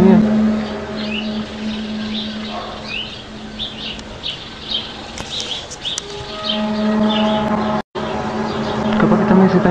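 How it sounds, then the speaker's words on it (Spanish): Small birds chirp and tweet faintly in the background while people talk over a steady low hum, with a brief dropout near the end. "Capaz que también se están escuchando el ruido de los pájaros"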